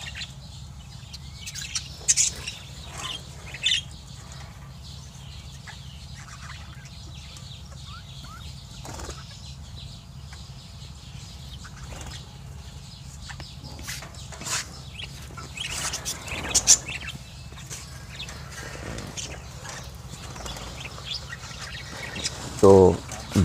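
Birds in a home aviary colony chirp and tweet in scattered short bursts over a low hum, with some wing flutters and someone talking quietly throughout.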